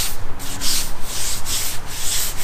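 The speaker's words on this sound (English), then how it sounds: "So I just sanded down this bumper" Sanding a car bumper cover by hand, the abrasive rasping in steady back-and-forth strokes, close and continuous with rhythmic surges and no talking.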